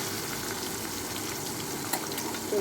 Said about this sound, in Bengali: ভাজা আদা রসুনটা ভাজা হয়ে গিয়েছে